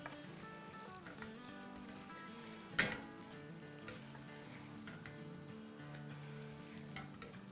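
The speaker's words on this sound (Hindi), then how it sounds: "इस बबल बबल में अब हम अपनी गोभी डाल देंगे" Cauliflower frying in bubbling oil for gobi manchurian gives a quiet, even sizzle. A single sharp clatter cuts through it partway along.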